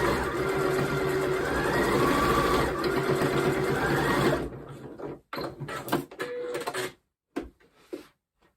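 A sewing machine stitches a make-up brush roll seam in a fast continuous whir for about four seconds, then stops and gives way to short bursts and clicks of fabric handling and brief stitching.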